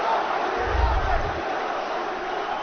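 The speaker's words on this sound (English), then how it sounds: "Crowd chanting for Isslam Makhachev." An arena crowd at a UFC event chants for Islam Makhachev, a broad, sustained roar of voices with a brief low rumble early on, steady and loud throughout.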